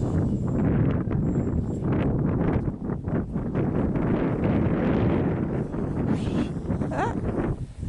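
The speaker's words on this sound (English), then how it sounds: "I would say that wind's gusting you now." Strong gusting wind buffets the microphone with a continuous loud roar outdoors on a windy day at a model aircraft flying field, with no voices heard.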